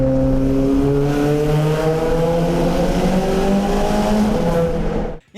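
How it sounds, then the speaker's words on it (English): A car with a full straight-pipe exhaust holds a loud, raw, droning rev, its harsh engine note steady and slightly rising for several seconds before cutting off abruptly, with no talking. "the car that I got to drive had a full straight pipe sticker exhaust that sounded like this"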